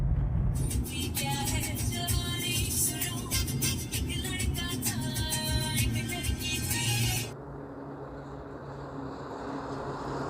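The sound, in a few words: road traffic with trucks in a jam on the highway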